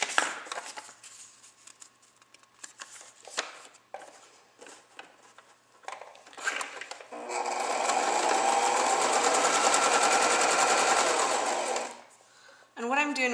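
A sewing machine stitching pieces onto a paper card, preceded by a few scattered handling clicks and taps, then a steady, loud mechanical whir for several seconds that stops abruptly before a short final burst.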